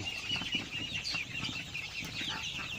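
A flock of 5-week-old Hisex Brown laying hens makes continuous soft clucking and high chirping close by in a barn, with no voices.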